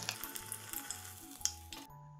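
Broccoli tempura pieces frying in hot oil, a quiet crackling sizzle with small pops and a clink or two of utensils, fading toward the end.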